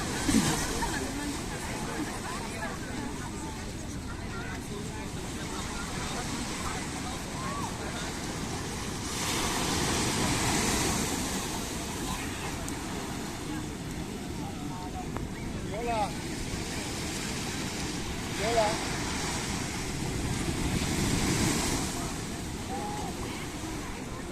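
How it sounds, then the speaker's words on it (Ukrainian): Continuous roar of ocean surf at Puerto de Santiago, Tenerife, rising and falling as waves wash in, with gusty wind noise on the microphone and brief faint sounds in the distance. "Ось які там розбиваються як хвильки."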